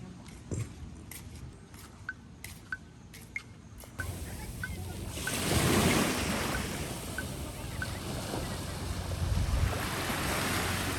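Sea waves rolling onto Matabungkay beach under stormy weather, a broad continuous wash that swells louder midway and again near the end, preceded by a few seconds of quieter ambience with sharp clicks.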